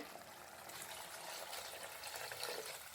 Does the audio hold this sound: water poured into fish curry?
yes